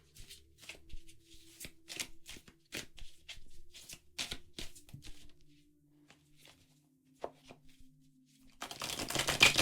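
Tarot cards are shuffled in quick crisp bursts of riffling and snapping, with pauses between, ending in a louder rush of noise.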